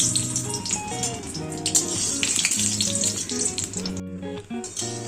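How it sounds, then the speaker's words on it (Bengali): Three dried red chillies frying in hot oil in a kadai, a steady hissing sizzle with light spattering, heard under background music that briefly drops out near the end. "এবার তিনটে শুকনো লঙ্কা ভেজে নেব"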